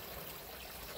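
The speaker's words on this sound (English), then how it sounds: "As you can see by the flow of the water going to the other" Water flows from the standpipe of an aquaponics fish tank toward its outlets, a faint, steady trickle with an even hiss and no voices.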